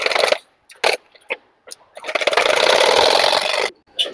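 A sewing machine stitches a blouse in short bursts of rapid mechanical whirring, separated by brief pauses, then runs for a longer continuous stretch before stopping.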